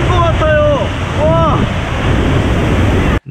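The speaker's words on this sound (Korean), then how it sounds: "나이아가라 폭포에 갔거든요" Niagara Falls waterfall roaring, a loud, dense, unbroken rush of water and wind. A voice exclaims briefly at the start, and the roar cuts off abruptly at the end.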